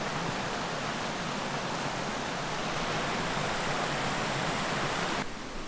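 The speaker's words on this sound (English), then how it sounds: "There's the waterfall." A mini waterfall on a hiking trail near Greenville, a steady, dense rush of falling water heard close and alone, without breaks.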